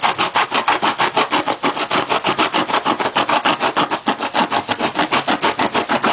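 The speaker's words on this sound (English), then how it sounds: "grab a serrated knife or a saw if you have one in your workshop" A saw rasps back and forth in quick, steady strokes, loud and close, cutting through a roll of toilet paper.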